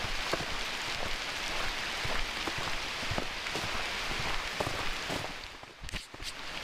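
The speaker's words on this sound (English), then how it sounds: "If it keeps raining like this all night" Steady rain falling and pattering on surfaces in Forestville Mystery Cave State Park, Minnesota, a dense continuous hiss with scattered louder drops, no voices.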